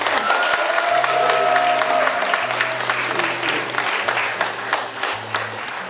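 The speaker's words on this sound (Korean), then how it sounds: "여러분 뜨거운 박수 보내주십시오." Warm applause greets a guest singer at a book launch for a novel. Crowd clapping and some cheering run throughout, slowly fading, over a low steady hum of background tones.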